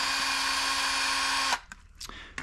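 A power drill with a torque setting drives bolts back in during a Yume Predator motor and tire change. It whines steadily at close range for about a second and a half, then stops, leaving a few faint knocks and handling sounds.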